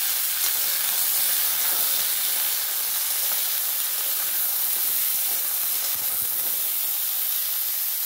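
Long-cut potato strips fry in a pan with drumstick (sajna data), giving a loud, continuous hissing sizzle that stays close and even throughout, with no speech.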